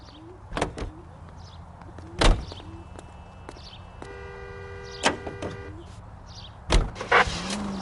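A car in the video game L.A. Noire, with doors thudding shut, sharp clunks and a mechanical whir as the car is prepared to drive, sounding close and alone without talk.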